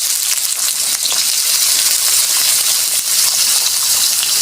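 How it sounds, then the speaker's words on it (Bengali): Teasel gourd goes into hot oil tempered with five-spice panch phoron, producing a loud, unbroken close-up hiss of sizzling. "ফোড়নটা হয়ে গেছে, এবার আমি কাঁকরোলগুলো দিয়ে দেবো"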